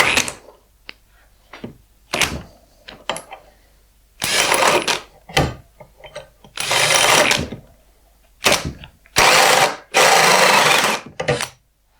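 A cordless drill driver fitted with a Viking S-200X hole saw cuts in several loud, close bursts of whining, grinding noise. Clicks and knocks sound in the quieter gaps between the bursts.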